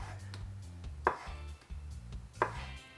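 A knife slices through cooked egg whites on a cutting board, two crisp chops about a second apart over a low steady hum, close and clear.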